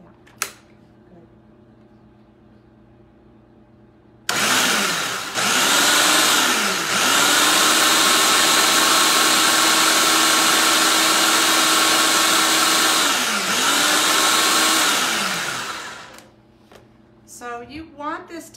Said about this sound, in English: So we'll turn this food processor on.